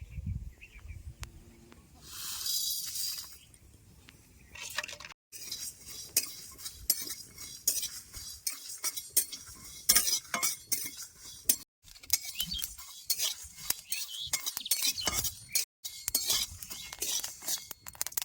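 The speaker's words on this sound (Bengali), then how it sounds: "কড়াইটাও সুন্দর গরম হয়ে আছে এখন আচারের মশলাটা বাজে নেবো" Pickle spices and dried red chillies are dry-roasted in a hot wok on a clay stove, heard as irregular scraping, stirring and metallic clinks in quick close bursts.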